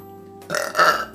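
A woman gives one loud, close burp after a gassy lunch, a short rough belch that swells and then fades over about half a second.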